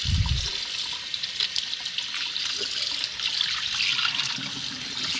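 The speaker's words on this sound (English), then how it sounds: "Now the cavity, you want to make sure you rinse that out real good." Water pours and splashes steadily into the cavity of a raw turkey being rinsed out before deep frying, a continuous close, bright rushing and trickling flow like a running tap into a sink.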